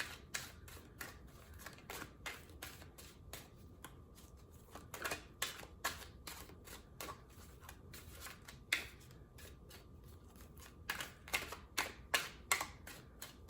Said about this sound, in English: One more shuffle, and then I'm gonna pull the old-fashioned way.